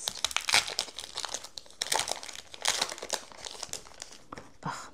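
Crinkly foil wrappers of Disney Lorcana First Chapter trading card booster packs crumple and tear up close in a string of sharp, rustling bursts with brief pauses between.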